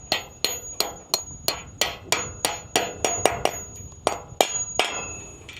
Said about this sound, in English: Just hit it down.